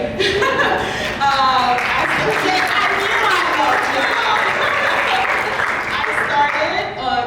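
A small event audience claps and chuckles loosely at a kickoff talk, scattered applause and light laughter mixing with a speaker's voice throughout.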